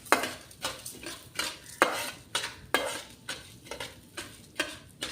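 Urad dal and fenugreek seeds dry roasting in a pan for tomato rasam powder, stirred with a spoon in steady rhythmic scrapes roughly every half second, close and clear with no talk.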